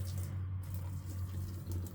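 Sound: pouring hot water over salmon fish

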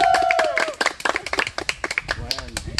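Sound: audience applause

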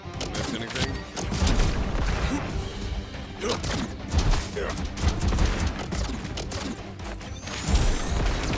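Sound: flamethrower firing in video game Contra Operation Galuga

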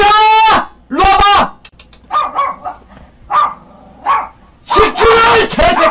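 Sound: pet dog barking

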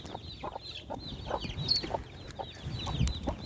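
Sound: chickens clucking

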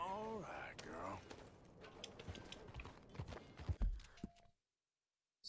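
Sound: horse hooves clip-clop, from video game

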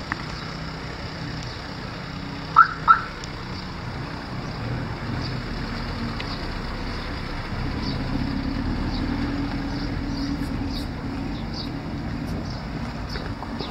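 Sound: Opel Vectra car beeping, car alarm

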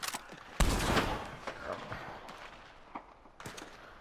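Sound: gunfire in the video game Red Dead Redemption 2

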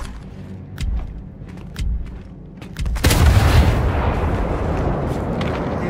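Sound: bomb exploding in the video game Gears 5

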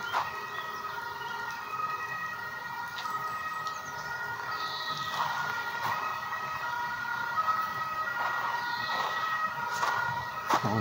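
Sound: ambulance or police siren

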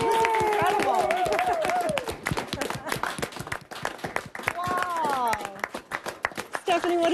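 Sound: applause from hockey teams

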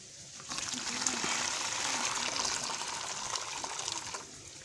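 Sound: pouring water to dilute caustic soda

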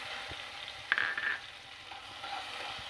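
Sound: cashew nuts frying in hot ghee in a pan

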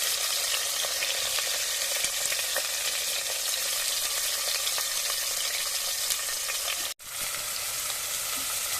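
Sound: onions frying in a pan

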